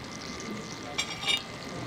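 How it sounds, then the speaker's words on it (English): A steady sizzling hiss of 40-day aged steak frying fills the clip, with a couple of faint clinks or crackles midway, in a restaurant in Tagaytay, Philippines. "You can actually still hear the steak sizzling."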